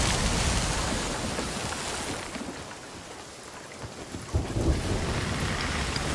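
A rumbling thunderstorm at sea in the video game Sea of Thieves, with heavy rain hissing throughout, a low roll of thunder swelling near the end.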